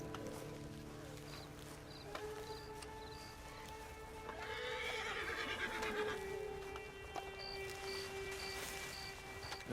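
A horse whinnies amid ambient game sounds from Red Dead Redemption 2, with a rising neigh around the middle over steady background tones and faint hoof clip-clop.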